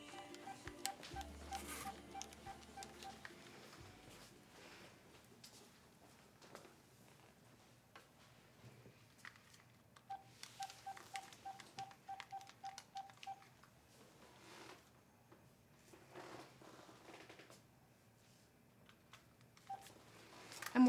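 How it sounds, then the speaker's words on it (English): Telephone keypad dialing tones, two quick runs of evenly spaced beeps, played at a moderate level against a quiet indoor background with scattered soft clatter and no talking. "I have to make a quick phone call."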